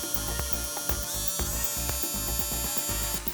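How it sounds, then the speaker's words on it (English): A battery-powered Dremel rotary tool runs with a steady, high-pitched whirring buzz, close and continuous, with brief dips in pitch where the bit meets work on a plastic action figure. "I bought a new dremel tool for this project"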